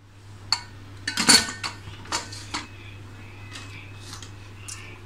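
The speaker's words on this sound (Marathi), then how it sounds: "त्याच्यावरती आपल्याला हे जे खरवसचं भांडं आहे ते ठेवायचं आहे" A kharvas pot set down into a pressure cooker, with a few sharp metallic clinks and knocks of pot against cooker, close by over a steady low hum.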